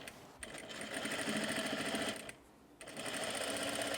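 A sewing machine stitches down a flat felled seam on gingham trousers, running loud and steady with a brief pause midway before resuming, with no talk over it.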